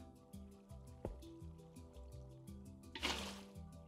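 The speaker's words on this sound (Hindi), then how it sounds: "इसको रखो और इसके ऊपर पानी डाल दो" In the Minecraft video game, water is poured onto blocks while building an iron farm, giving a soft liquid splash and trickle over steady background music, with a louder whoosh near the end.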